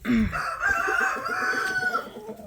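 A rooster crows loudly, a long drawn-out call close by, with some clucking and barnyard noise underneath, near a hen in a laying box.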